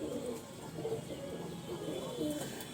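Pigeons at a home loft coo faintly in several low rolling phrases over a steady background hum, with no clear talk.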